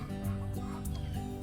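Hens on a Florida homestead cluck in short, low, repeated bursts, close and moderately loud over a faint outdoor background.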